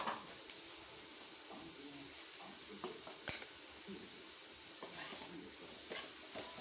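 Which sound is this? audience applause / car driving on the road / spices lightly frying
spices lightly frying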